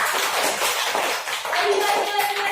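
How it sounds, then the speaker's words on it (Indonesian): A classroom of students claps together in a brisk burst of applause, dense and close, with children's voices mixed in. "Tepuk tangan untuk kita semua."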